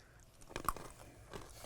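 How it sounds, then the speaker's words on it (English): Freeze-dried Skittles candy, Cosmic Crunchies, are bitten and crunched up close, a few sharp brittle cracks in a short quiet burst. "They're called crunchies, and I wasn't ready for the crunch"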